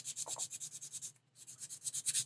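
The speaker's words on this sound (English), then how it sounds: "so I'm going to go to a 100 grit" Coarse 100 grit abrasive scrubs a 1/4 scale Deadpool figure in rapid rhythmic strokes, close up, broken by one brief pause midway.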